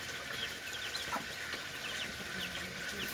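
Chickens clucking in a farmyard flock with hens and hatched chicks, soft repeated clucks and peeps from several birds at moderate distance, steady throughout.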